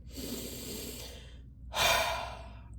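A close, deep breath: a long, slow airy inhale, a brief pause, then a stronger, louder exhale like a sigh, with no speech.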